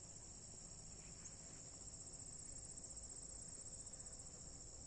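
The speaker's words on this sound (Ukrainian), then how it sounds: "Чуєте, як співають цвірчики? цвіркуни." Crickets chirp in a flower garden in the morning, a continuous high-pitched trill, steady and unbroken, with a low background hum beneath.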